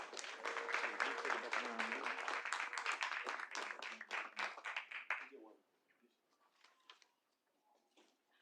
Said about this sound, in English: Let's give the team a round of applause again.